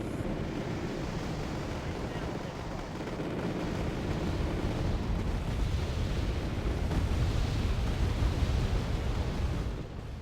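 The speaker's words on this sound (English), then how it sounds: "I'll make a blind bombardment on that position." Artillery bombardment in the Wargame AirLand Battle video game: a continuous, heavy roar of explosions and rumbling impacts that swells gradually louder, with no talking.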